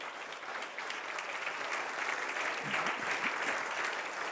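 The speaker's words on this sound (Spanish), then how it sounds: "dale un fuerte aplauso al Señor" Sustained applause from a church congregation clapping for the Lord, a dense, steady wash of many hands lasting the whole stretch with no voices over it.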